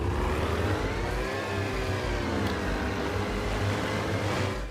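A boat motors across open water in the DayZ video game, with its loud, steady engine drone holding an even pitch that rises and falls slightly, close and continuous, with no talking.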